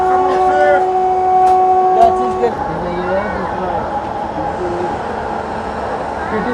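Vikramshila Express passenger train moving, a steady rolling rumble with tonal whistle-like lines early on, loud and close from inside a crowded coach, with people talking and calling throughout.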